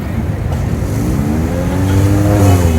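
Honda Civic engine revving loudly up close with a low battery, pitch climbing steadily as the revs build and holding high at the end, no talk over it.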